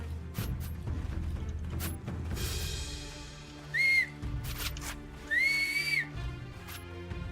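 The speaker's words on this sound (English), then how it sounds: "you can whistle for your horse by hitting the M key" A rising whistle to summon a horse in the Mount & Blade video game, sounding twice as two short bright tones over a mechanical game background with creaks and clatter.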